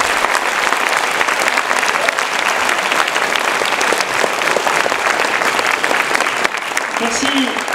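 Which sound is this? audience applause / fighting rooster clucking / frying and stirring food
audience applause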